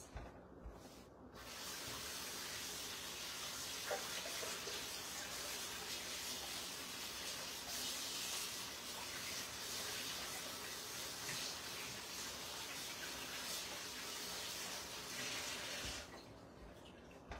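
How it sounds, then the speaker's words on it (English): Hands are rinsed under a running kitchen tap in the middle of mixing sourdough, a steady gushing splash that starts after a brief pause and runs evenly for about fifteen seconds before cutting off. "let me just rinse my hands"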